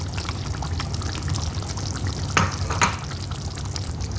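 A yogurt and cream mixture is poured into chicken frying in a pan, heard as a soft continuous sizzle with a brief wet splash and clink partway through.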